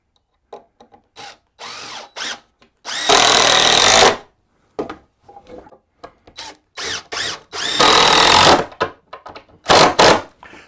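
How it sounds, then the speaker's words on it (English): A power drill drives screws into old 2x4 wood boards, with loud, close bursts of motor whine as each screw sinks, separated by short handling clicks and pauses. "You want to connect them pretty decent, so I'm going to put about 4 screws in here."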